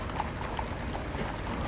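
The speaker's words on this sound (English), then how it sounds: "the clomp of the horses' hooves in the foreground" Horses' hooves clomp in a steady rhythm during a state funeral procession in Washington, D.C., moderately close over a broad outdoor crowd wash.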